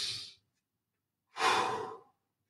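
Deep breathing after a cardio HIIT workout: one breath, then after a pause a longer, louder exhale, close and alone with no talk.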